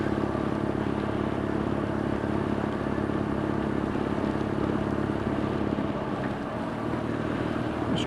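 A BMW R nineT Scrambler ridden on a wet road, its engine a steady rumble under wind noise that eases slightly near the end, where a gear change may come.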